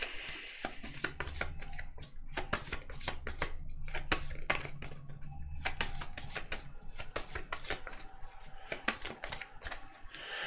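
Tarot cards being shuffled by hand, close and fairly quiet, rapid riffling and slapping bursts that come in irregular clusters, alone with no talking.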